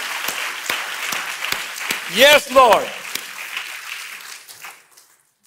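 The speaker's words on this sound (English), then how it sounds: "Would you offer the Lord a clap offering for a few moments here?" Church congregation giving a clap offering during a sermon: scattered claps fade out beneath a preacher's voice, with a brief exclamation partway through before everything tapers into silence.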